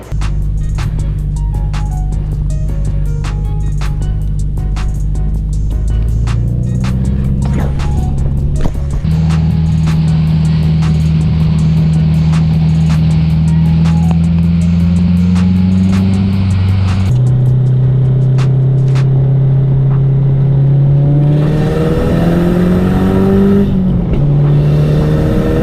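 A Subaru STI Forester fitted with an external wastegate accelerates hard through the gears, a loud close engine roar climbing in pitch with shifts between rising pulls and sharp bursts near the end.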